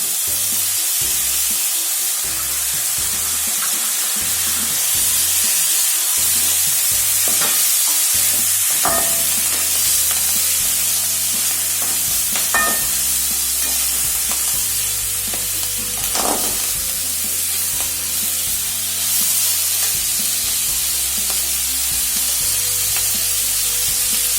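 Peeled adamant creeper stalks fry in a pan for a village-style pirandai chutney, a loud, continuous close sizzle with scattered scrapes and knocks of a stirring spoon throughout, and no voices.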